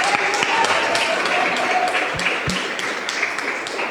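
A church congregation applauds during a family service, giving a steady wash of clapping with a few sharp taps and louder claps, while a voice speaks over it.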